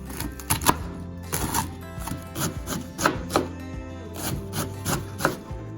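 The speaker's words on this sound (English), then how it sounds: "now I'm just gonna take my cabbage and start cutting it, making very thin slices." A knife slicing cabbage into very thin shreds on a wooden board, quick rhythmic chops in irregular bursts, close and clear with no talk.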